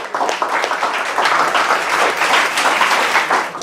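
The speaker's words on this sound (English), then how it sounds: "Give a big round of applause for him." Students at a school farewell event clap for a classmate coming up to perform comedy, a lively burst of crowd applause filling the room from start to finish, close and fairly loud, with no speech over it.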